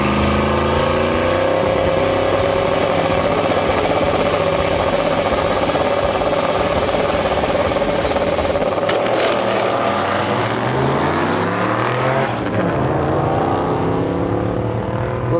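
A turbocharged LS V8 in a Datsun truck roars at the drag strip, holding a strong steady drone before the pitch sweeps and shifts as the run winds down, loud and close throughout.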